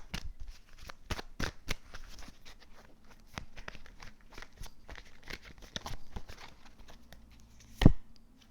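Tarot cards are shuffled and laid down on a table, a run of crisp irregular flicks and slaps with a sharper thump near the end, close and fairly quiet with no talk.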